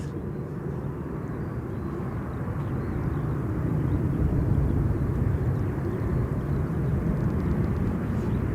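A Boeing 787 airliner taking off at London Gatwick Airport, heard as a steady, fairly distant engine roar that swells slightly midway and holds without a break.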